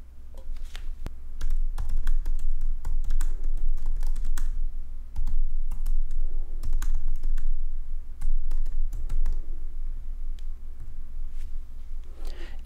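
Rapid, continuous typing on a computer keyboard, close and clear, with a dense run of key clicks and a few brief pauses, no speech.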